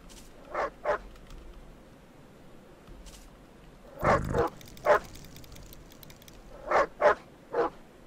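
A dog in the video game Postal 4 gives a series of short, sharp barks, a pair, then a cluster of three, then three more, fairly close and loud over a quiet background.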